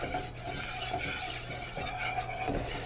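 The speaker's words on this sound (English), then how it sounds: "Hear the sizzle, and it starts to take form." Dry white wine hitting a hot pan while making chicken cordon bleu, giving a continuous soft hissing sizzle with faint scraping and stirring, steady and close, no talk.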